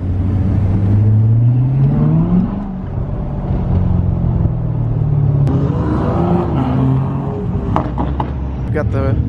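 Cars drive past at a pre-dawn street car meet with a Corvette C8 parked nearby: a steady close engine rumble and a rising revving whine, with people talking over the traffic noise throughout.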